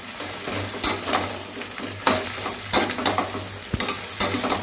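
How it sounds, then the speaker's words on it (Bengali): Potatoes and ridge gourd frying in a pan are stirred, with a soft steady sizzle under repeated close scraping strokes of a spatula, without any voices. "এবার ভালো করে মিশিয়ে দিচ্ছি।"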